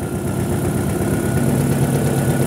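A car engine idles steadily while warming up during ignition timing checks for a suspected faulty knock sensor, a loud, close, continuous rumble with no speech.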